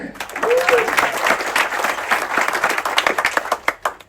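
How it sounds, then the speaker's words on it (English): Guests applaud an Amadeus crew member at a festive introduction, a brief whistle over brisk group clapping that stays strong, then breaks into a few louder individual claps as it fades. "Big applause for Akung"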